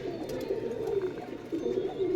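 Lalpuri pigeons, a male and a female, coo softly nearby in a low, throaty repeated murmur over a steady background hum.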